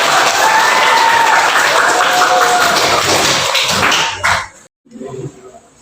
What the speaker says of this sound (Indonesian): Buyo Kumbang, tepuk tangan untuk semuanya